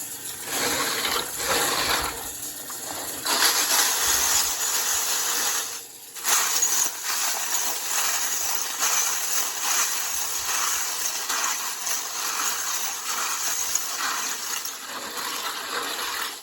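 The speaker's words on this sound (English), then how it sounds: "We'll use this colander to separate the pins from the brass." Brass cartridge cases and stainless tumbling pins shaken in a colander under running water, a continuous wet rushing and rattling that holds steady for the whole stretch, with only a brief dip partway through.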